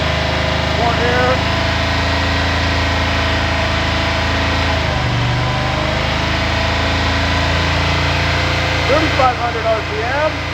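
A hydrogen-powered V8 engine runs at high RPM on a test, giving a steady, sustained drone at constant loudness, with voices talking over it now and then.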